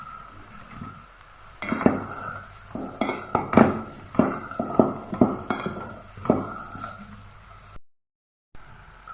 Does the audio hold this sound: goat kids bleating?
no